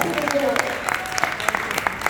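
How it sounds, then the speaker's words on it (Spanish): Church congregation clapping for the Lord during a bilingual Spanish-English sermon, a steady wash of hand claps with sharp individual hits, and a voice briefly heard above it. "Démosle un aplauso al Señor, aleluya."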